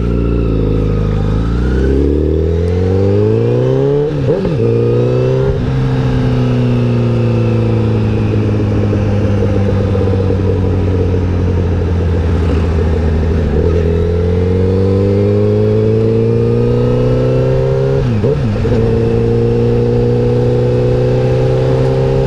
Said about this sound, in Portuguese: A motinha está esquentando.